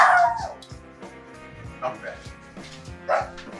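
A dog barks in several short, loud yips near the start and again mid-clip, mixed with a person speaking briefly in a room with a steady low hum underneath.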